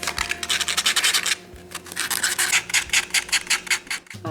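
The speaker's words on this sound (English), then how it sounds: "but I'm going to sand them just a little." Small painted hearts on a small item are hand-sanded in quick, rhythmic bursts of dry rasping scratches, close and fairly soft, with a brief pause midway.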